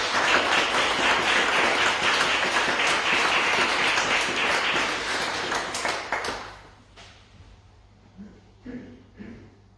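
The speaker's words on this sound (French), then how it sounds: "Vous pouvez les applaudir." A Reformed church congregation at a Sunday service in Grandval applauds in a dense, steady burst for about six seconds, then the clapping thins out and fades, leaving a few faint sounds and quiet voices.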